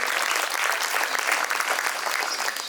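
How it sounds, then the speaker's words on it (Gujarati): Warm, steady applause from a school audience at a children's poetry gathering, a dense wash of many hands clapping that holds evenly throughout without letting up. "તો જોરદાર તાળીઓથી આપણે રીવાબા જેઠવાને વધાવીએ"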